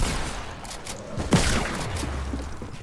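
Gunfire rattles in a quick, loud Fortnite burst against a busy game backdrop, with one sharper report standing out partway through.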